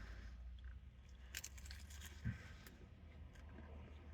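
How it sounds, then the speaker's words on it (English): Someone bites and chews crunchy gas station chicken wings up close, with faint crisp crunches scattered over a low steady background hum. "Crunchy wings."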